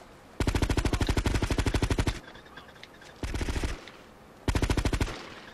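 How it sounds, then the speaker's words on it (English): Automatic gunfire in the Vice City video game: three rapid, loud bursts of evenly spaced shots, a long first burst followed by two shorter ones, with brief gaps between them. "when you're shooting in this game, you just gotta hold, like, for a second"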